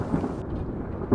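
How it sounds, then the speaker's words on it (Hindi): Low, heavy rumble of thunder in a downpour, a dense steady roar that swells again near the end, with no voices. "रात का सन्नाटा और बाहर मूसलाधार बारिश।"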